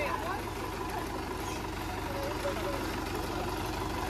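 Tractor engine chugging at low revs as it is worked out, a steady rumble running underneath nearby voices talking.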